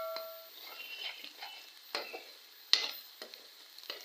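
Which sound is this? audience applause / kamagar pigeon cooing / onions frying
onions frying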